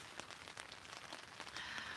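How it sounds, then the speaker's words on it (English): Steady rain drums on the fabric of a Cinch tent, a dense patter of close drops heard from inside, continuous and even with no voices. "So you guys can hear the rain?"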